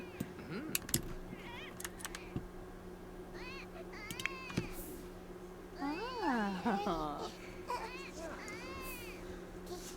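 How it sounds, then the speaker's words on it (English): A crying infant in the Stone to Space video game wails in rising and falling bursts midway through, alongside meow-like cries and sharp clicks over a steady hum. "Oh, and the baby's crying."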